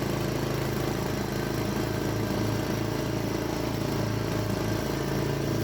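Bobcat walk-behind mower cutting overgrown, wet backyard grass, a loud, continuous engine drone close by with steady blade noise and no talking.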